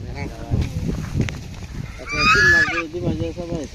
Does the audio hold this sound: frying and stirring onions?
no